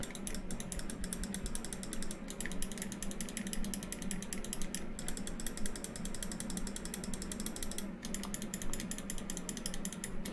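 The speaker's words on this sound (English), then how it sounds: "the wireless version has Kali switches on it. So it is a little bit more clickier and louder" Clicks from a Glorious Model D Wireless mouse with Kali switches come in a fast, continuous stream, crisp and close, with a few brief pauses.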